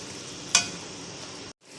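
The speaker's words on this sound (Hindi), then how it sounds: "अब हम इसमें एक पिसा हुआ टमाटर ऐड करेंगे और इसको भी भून लेंगे।" Ground tomato hits a pan of chicken and garlic. A steady close sizzle runs underneath, a sharp stirring scrape breaks in partway, and the sound drops out briefly before a loud burst at the end.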